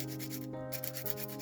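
An 80 grit sanding stick rubbing back and forth on a small piece, giving faint, close, rhythmic scratchy strokes over a steady low hum, with no one talking.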